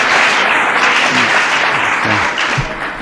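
Loud, sustained audience applause fills a White House performance hall in 1986, a dense, even wash of many hands clapping that holds steady for several seconds, with a few low voices faintly audible underneath.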